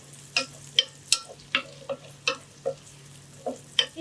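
Onions with green chillies sautéing in a pan for paneer butter masala, a steady low sizzle broken by about ten sharp scraping stirs at a quick, fairly even rhythm, close and clear with no talking.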